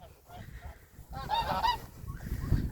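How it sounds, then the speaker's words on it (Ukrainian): Domestic geese on asphalt let out a few nasal honks in a short cluster, fairly quiet and at moderate distance, with low background noise around them. "Вон до й гуси за мною вже біжать за мною біжать, за мною."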